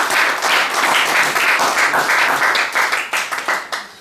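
A church congregation claps and applauds for the Lord, a dense, loud, sustained wash of hands clapping that holds steady for several seconds before thinning out toward the end, with no talking over it.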